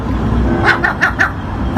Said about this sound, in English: I think my seagull barks.